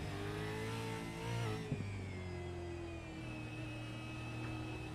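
A V8 race car in a racing simulation at Hockenheim drones steadily under throttle, its engine tone rising and then settling into a sustained mid-pitched hum, heard alone without voices.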